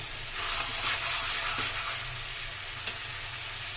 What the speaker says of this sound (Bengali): একটু ভালোভাবে মশলাটা কষিয়ে নেব